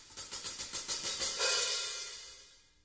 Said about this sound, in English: This one over here is called the hi-hat.